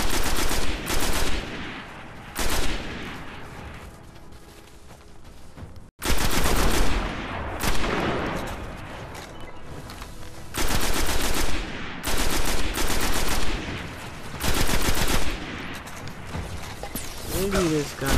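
Rapid automatic weapon fire in the shooter game Destiny, loud bursts of machine-gun-like shots separated by short pauses and mechanical clicks, with a voice talking between the bursts.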